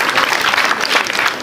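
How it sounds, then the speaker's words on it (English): An audience at a Rift Valley Institute of Science and Technology talent show applauds two former students, a dense, steady wash of clapping filling the short moment with no break. "Can you please clap for them?"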